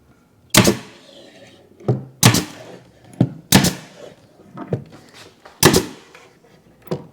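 Senko SKS oilless pneumatic stapler fastening a microwave drawer cabinet, giving several sharp, loud, evenly spaced shots interleaved with softer thuds, close by with no talk.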